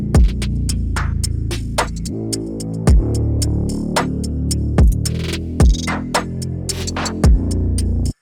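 A layered, reverb-heavy drum pattern built in FL Studio for a dark ambient beat, with sharp hits recurring at a steady pace over a deep, sustained low throb and a hazy wash of tail.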